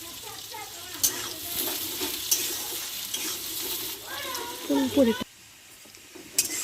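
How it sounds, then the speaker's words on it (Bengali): Onions frying in a pan with a little salt for a homestyle chicken curry, a steady close sizzle with stirring scrapes, louder bursts near the end before the sound drops off abruptly; no talking. "আমার পেঁয়াজগুলো লাল লাল করে ভাজা হয়ে গেছে।"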